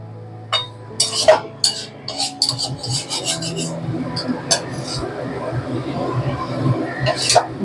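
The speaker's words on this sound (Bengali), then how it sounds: "এবার শুধু এইভাবে একটু নেড়ে নিতে হবে উপর নিচে করে" Jackfruit curry (echor chorchori) being stirred up and down in a pan, a spoon scraping and clinking against the metal in quick irregular strokes, close and fairly loud, with a voice talking over it.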